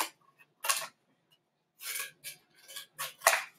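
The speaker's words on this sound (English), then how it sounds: "cut the cardboard into squares or rectangles" Scissors cut through cardboard for a craft project, giving several separate crunchy snips spread over a few seconds, fairly close and alone with no talking.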